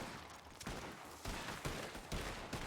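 Gunfire in a video game, several sharp cracks in quick succession at irregular intervals, fairly faint and distant-sounding with a rough, noisy tail.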